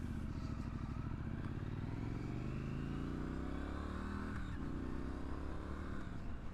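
A 2019 Triumph Street Scrambler motorcycle engine revs up steadily, its pitch climbing, then drops and picks up again, loud and close with a rough mechanical edge.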